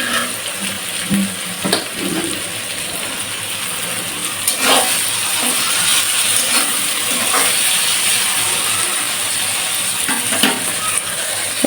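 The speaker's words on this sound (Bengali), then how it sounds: "পেঁয়াজটা ভাজা হয়ে" Onion frying in a pan for a fresh greens dish with green chili and salt, a loud steady sizzle with occasional stirring scrapes and clicks, close up and without talk.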